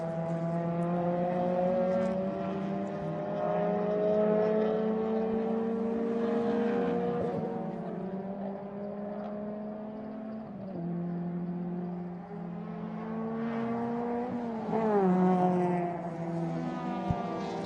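Race cars climb a hill through a circuit race, several engines droning loud and close with rising and falling pitch as they shift gears and pass, continuous throughout.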